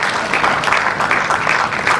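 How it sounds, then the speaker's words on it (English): Audience applause for a national ambassador at a 2016 summit in Nigeria, a steady dense clapping from a sizable crowd that fills the whole stretch at an even, fairly loud level. "Let's give a round of applause for our National Ambassador"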